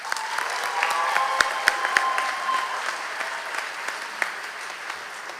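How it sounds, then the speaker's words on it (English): A graduation audience at a 2024 high school ceremony applauds steadily, a dense wash of many clapping hands filling the hall for several seconds, with a few sharper claps standing out. "Let's give them a round of applause."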